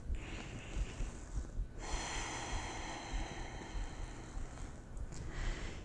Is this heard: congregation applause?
no